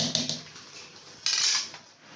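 Parboiled rice for chicken biryani is strained from a pot, giving a few metallic clinks of the pot and strainer followed by a brief rush of draining water, all fairly quiet and close; no voices.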